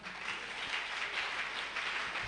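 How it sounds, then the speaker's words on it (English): A workshop audience claps steadily at low level, a continuous patter of hands heard from a distance with no talk over it. "Please, let's clap for her."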